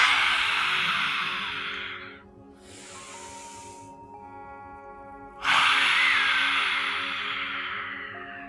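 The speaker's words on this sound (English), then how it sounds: "And exhale." Long, airy breaths during a guided meditation, two drawn-out rushing exhalations a few seconds apart, close and fairly loud over a soft sustained musical drone.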